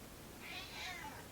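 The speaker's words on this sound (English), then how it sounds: "got distracted by the cat" A cat meows indoors, a single drawn-out call that swells and fades over about a second, fairly faint against a quiet room.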